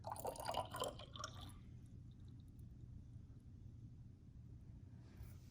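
Water is poured into a glass graduated cylinder, a short bubbly trickle and splash at the start that fades to quiet background hum.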